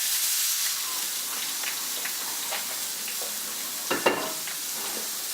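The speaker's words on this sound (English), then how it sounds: "apply a nice little sear to this before we put it in the oven to give us a nice color" Beef roast laid meat side down in a hot pan before going into the oven, giving a steady soft sizzle and hiss with a few small pops and a brief louder crackle near the end.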